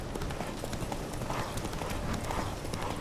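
Roach the horse trots in The Witcher 3 video game, its hooves clip-clopping in a steady, fairly loud rhythm under a faint game background.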